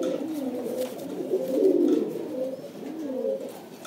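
Imported-breed pigeons coo close by in low, rolling, throaty phrases that rise and fall over a few seconds, with no people talking.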